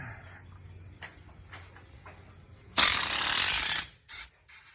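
A ratchet clicks out the transmission bolts on a 1976 Chevy square-body truck, with a long loud burst of rapid ratcheting after a few quieter clicks, then a short final turn.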